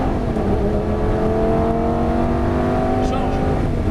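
A Lamborghini Gallardo accelerates on the Nogaro race track, its engine a loud, steady, rising drone heard from inside the car while an instructor speaks over it.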